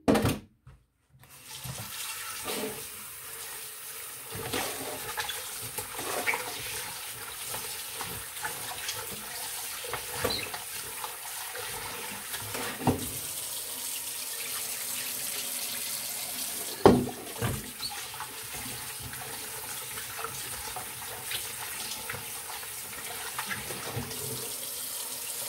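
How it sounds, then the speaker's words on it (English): Tap water running steadily into a kitchen sink while chicken feet are rinsed under it, with occasional splashes and clunks of handling over a continuous hiss; no one speaks. "So I'm gonna rinse it off now and then season."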